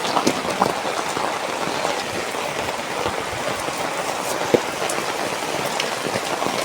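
Steady rain pours down, a dense hiss of drops pattering on surfaces with a few sharper splashes, continuous and fairly close.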